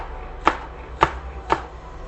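A knife slices green onion on a cutting board: three crisp, evenly spaced chops about half a second apart, close and clear over a quiet background.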